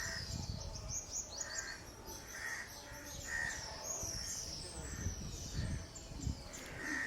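Crows caw repeatedly in a quiet outdoor setting by a lake in Jaisalmer, India, several spaced calls at moderate distance over faint background ambience, with some smaller bird chirps.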